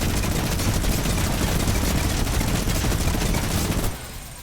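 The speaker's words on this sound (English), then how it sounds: "if Ewan shoots me with the minigun while I'm turbo building" Rapid minigun fire from the game Fortnite rattles loudly and continuously for about four seconds, then cuts off abruptly, leaving only quieter game ambience.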